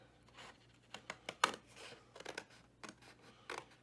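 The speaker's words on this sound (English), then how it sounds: "I'm going to cut right along this line." Scissors cut through paper along a score line in a few quiet, separate snips, close by with short pauses between them.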